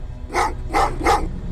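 Dogs in the video game Terminator: Resistance bark three times, each a loud, mid-pitched bark spaced roughly evenly apart, standing clear over a low steady game rumble.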